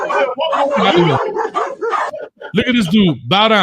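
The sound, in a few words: dog barking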